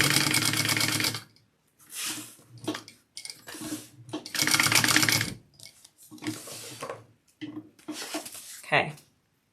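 Sewing machine top stitching a wallet, running in several bursts of rapid mechanical stitching separated by short pauses, close and fairly loud.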